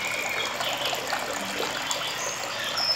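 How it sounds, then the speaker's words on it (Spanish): Water pours continuously in a steady, rain-like splash from a decorative grotto fountain with a rainfall-style cascade and water spilling from jugs, a constant nearby gushing with no pauses. "presenta una nueva gruta con caída de agua en forma de lluvia y también otra caída de agua"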